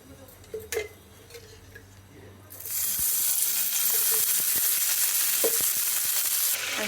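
Green chillies hit hot oil in a pan for a Telugu ivy gourd (donda kaya) chutney, starting with a few light taps and clinks before a loud, bright sizzle bursts in and holds steadily, close up, with small clicks over it.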